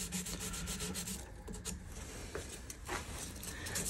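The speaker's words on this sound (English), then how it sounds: "We're rounding over the sort of front edge of the nut that doesn't actually touch anything other than your hand." Close, continuous scratchy rubbing as abrasive paper sands the front edge of a guitar nut on a 1953 Gibson L-50 during restoration, in steady, quick back-and-forth strokes.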